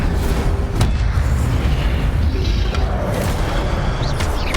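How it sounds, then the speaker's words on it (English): Incendio fire spell cast in Hogwarts Legacy, a dense, loud roaring blast with booming bursts that fill the whole clip without a break. "Incendio."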